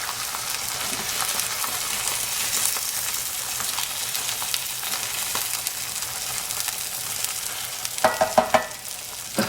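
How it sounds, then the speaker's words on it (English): Swiss steak with onions sizzling in a pan is stirred, a steady crackling fry running throughout with a brief burst of louder scraping and clatter near the end. "I'm just gonna give that, honestly, an extremely cursory little mix to kind of move things around, get some of those onions up on top."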